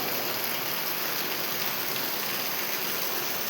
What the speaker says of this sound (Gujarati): જો કાંઈક આવી રીતનો વરસાદ પડે છે.